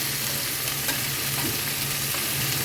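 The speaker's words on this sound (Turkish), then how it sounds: "Bir tarafı sıkır sıkır kızarıyor." Chicken wings frying and browning in a pan, a soft, steady sizzle with faint crackles and a low hum beneath, heard alone at moderate level without any talking.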